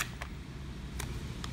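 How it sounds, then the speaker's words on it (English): Faint shutter clicks from a DSLR-type camera (Canon, Nikon, Sony or Pentax) taking a picture, a few sharp, brief ticks against quiet room noise. "Take a picture."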